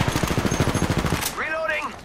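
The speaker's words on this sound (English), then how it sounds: "Getting shot at." Rapid automatic gunfire in a battle royale shooter as the player comes under fire, a fast string of close shots for about a second, followed by a game voice line.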